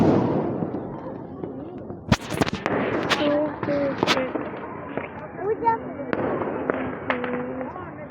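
New Year fireworks crack and pop in scattered sharp bangs, some close and loud, while people talk throughout.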